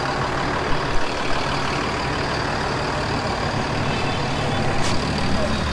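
A bus travels in India, with a continuous heavy engine drone and road noise, a few faint knocks and a brief high tone, and no clear talking.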